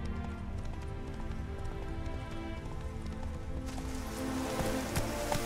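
Roach, a horse in The Witcher 3, gallops in a steady rapid clip-clop of hooves that runs the whole way through under a constant wash of game ambience.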